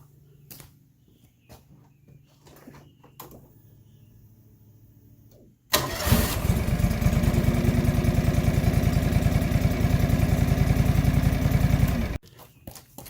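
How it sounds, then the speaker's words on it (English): A John Deere 445 lawn tractor sits quietly with faint handling noises, then its engine cranks and catches abruptly into a loud, steady idle that runs for several seconds before cutting off sharply. "we need to start the mower, and we're going to raise those arms with the hydraulic lever up and out of the way"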